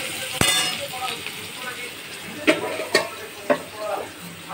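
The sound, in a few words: rice stirred into frying pan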